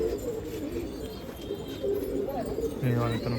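A one-year-old domestic pigeon at a pigeon festival in Nashik coos softly in low, rolling phrases, with people talking nearby and the cooing growing clearer toward the end.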